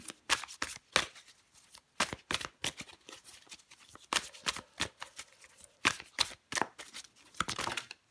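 Tarot cards shuffled by hand in a quiet room, a rapid run of crisp riffling bursts and soft slaps repeating in uneven clusters, close and fairly loud with no talking.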